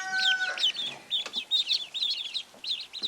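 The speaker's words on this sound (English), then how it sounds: "8 of these are runner ducks, and 2 or maybe 3 are the golden Pekin ducks." Runner and golden Pekin ducklings peep and chirp in rapid, high overlapping calls, close by and continuous.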